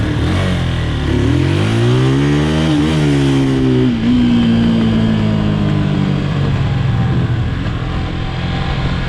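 Motorcycle engine in a Call of Duty game revving up loud and close, the pitch climbing through quick gear changes before settling into a sustained high drone.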